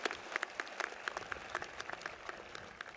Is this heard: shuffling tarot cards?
no